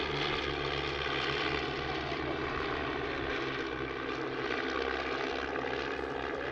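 A de Havilland Chipmunk propeller aircraft, a Canadian-built example in yellow Royal Canadian Air Force colours, flies over an airshow with a steady, loud engine drone and buzzing propeller tone throughout, no voices.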